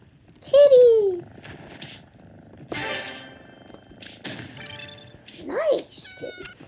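A cat in the video game Rivals 3 gives a loud, clear meow near the start, then further meows and yowls among game noises and people talking.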